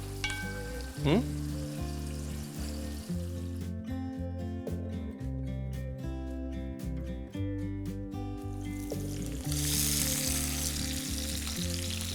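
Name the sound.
chicken and masala frying in a karahi for Peshawari chicken karahi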